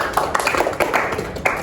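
A classroom group claps hands in a short, dense burst of overlapping claps at close range, with a few sharper claps standing out.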